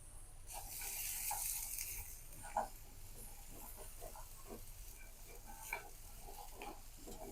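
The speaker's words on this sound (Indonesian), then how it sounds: "Sangrai dulu ya. Bawang merah, bawang putih, kemiri itu ya." Shallots, garlic and candlenuts dry-roasting in a pan, a soft crackling sizzle with scattered light ticks and scraping stirs, fairly faint and close, with a brief hiss at the start.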